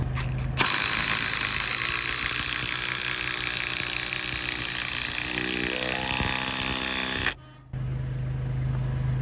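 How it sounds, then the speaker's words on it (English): Ratchet driving a lag screw through a wooden truss into a column, a steady fast clicking and grinding that runs close and continuous for several seconds, then stops abruptly with a brief pause before a quieter hum resumes. "So I'm going to run that lag through this truss all the way through the column and suck that together."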